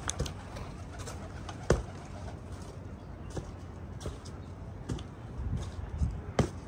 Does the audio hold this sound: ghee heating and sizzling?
no